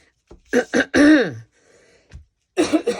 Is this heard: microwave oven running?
no